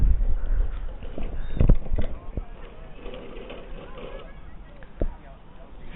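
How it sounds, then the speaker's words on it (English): Cricket equipment rattles and clatters as it is tidied away in the background at a club T20 cup match, with irregular knocks and bumps, one louder cluster near the middle, over a low outdoor murmur. "You can hear a terrible rattling in the background."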